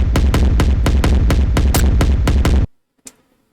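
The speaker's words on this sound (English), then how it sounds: "On this drum rack, I'm using the rumbly kick" A rumbly, clipped kick drum sample fires in a fast, steady run of about twelve loud, distorted hits, then stops abruptly, leaving one faint tap afterward.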